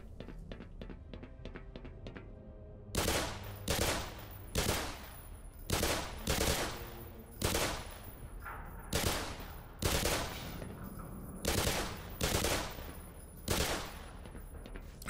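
Gunfire in the video game Black Mesa: a string of sharp, loud shots in irregular clusters of two and three, each with a short echoing tail, following a run of faint quick ticks.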